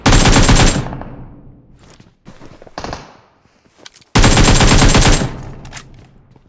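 AK rifle with a 4x scope fires full-auto in PUBG near an apartment block, loud close bursts with a decaying tail, scattered distant shots between, then a second sustained burst.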